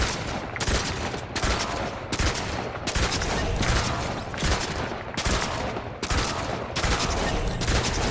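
Rapid bursts of gunfire from a Fortnite match ring out loud and close in a steady repeating rhythm, several volleys separated by short gaps, with no talking.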